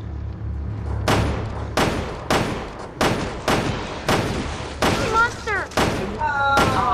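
Rapid heavy gunshots fired at a monster in the Resident Evil Revelations 2 video game, a loud, evenly spaced volley of sharp blasts with ringing tails, with shouted voices in between.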